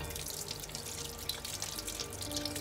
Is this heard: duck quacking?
no